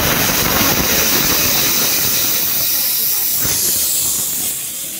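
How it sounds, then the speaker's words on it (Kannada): Pressure cooker whistling while tomato bath cooks in a home kitchen, a loud continuous steamy hiss close by that holds strongly and eases off slightly at the very end. "ಸೊ ಕ್ಲೋಸ್ ಮಾಡಿ 2 ವಿಷಲ್ಸ್ ಬಂದ್ರೆ ಟೊಮ್ಯಾಟೊ ಬಾತ್ ರೆಡಿ."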